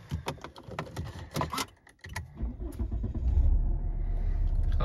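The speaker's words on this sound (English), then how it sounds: "Car starts up on the button" Inside a 2007 Volvo V70 2.4 D5 diesel, a few clicks and button presses lead to the engine cranking and catching, settling into a steady, low diesel idle rumble close by.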